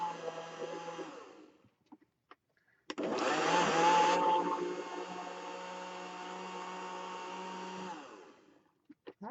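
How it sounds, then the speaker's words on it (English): An aging household blender whirs through wet paper pulp for homemade papermaking, with a short burst that cuts out, then a louder, steady motor whine running for several seconds before stopping. "our blender is finally going to die after all these years"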